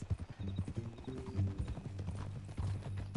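Horse hooves clip-clopping on a ranch, a fairly close, uneven run of hollow knocks and steps that continues throughout, with soft snorting underneath.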